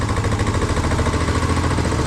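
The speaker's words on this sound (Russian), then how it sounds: "Даем газу и выжимаем первую передачу." Engine of a Muravey motor scooter revving under throttle as first gear is engaged, a loud, close, rough and buzzing mid-pitched drone.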